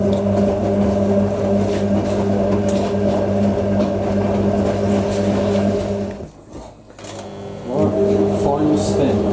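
A vintage 1980s Hotpoint washing machine whirs and drones steadily through its final spin, the motor hum loud and constant before briefly cutting out and then spinning back up.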